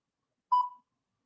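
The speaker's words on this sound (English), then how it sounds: "I'm gonna start our next timer for that." A workout interval timer gives one short, clean electronic beep, close and clear, set against silence on either side.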